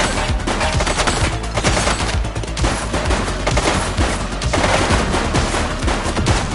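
Rapid gunfire in the police video game The Precinct, dense loud bursts of automatic shots and overlapping reports continuing without pause across the whole stretch.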